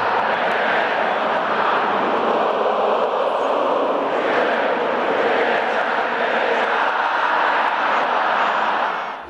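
A vast stadium crowd at the 2013 Confederations Cup match between Brazil and Mexico sings with the Brazil team, a steady, loud, massed roar of voices that holds evenly throughout.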